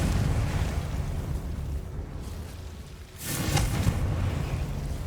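The Confringo fire spell in Hogwarts Legacy unleashes a dull, roaring blast over a constant rumbling wash of ambience, with a short swell about midway and no voices.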